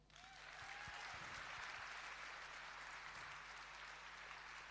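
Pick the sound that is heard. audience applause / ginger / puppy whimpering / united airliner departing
audience applause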